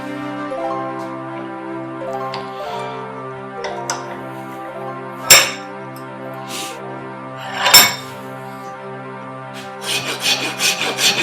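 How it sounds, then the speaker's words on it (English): A rasp files a wooden hammer handle in a workshop, producing repeated scraping strokes, some sharp and loud, others softer, over a sustained ringing background tone. "This rasp, so nice."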